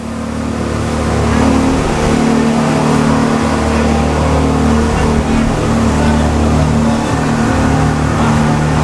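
A speedboat engine roars loud and steady at high speed crossing to Nusa Penida, Bali, with rushing water and wind blended into the constant drone.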